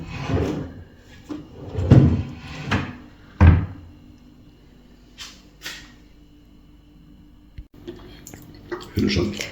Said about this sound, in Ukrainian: А отут під сидінням є шухляди для зберігання.